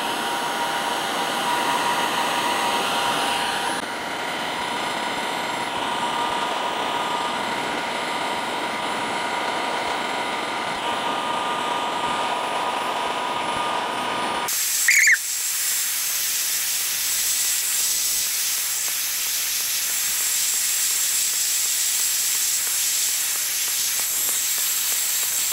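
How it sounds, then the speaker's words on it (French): A heat gun blowing hot air onto the edge of a plexiglass sheet, a loud continuous whooshing roar that shifts in tone partway through with a brief knock, then carries on steadily, no talking. "Donc il faut attendre que votre pistolet chauffe."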